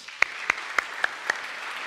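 A church congregation at a combined children's and youth service in Jayapura claps for a moment, five sharp, evenly spaced claps standing out over a soft background of scattered applause.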